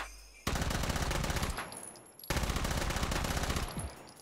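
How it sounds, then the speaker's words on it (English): Two bursts of rapid automatic gunfire from the VR shooter game Hot Dogs, Horseshoes & Hand Grenades, each a loud rattling volley of about a second and a half, separated by a short pause. "Gun down these bots."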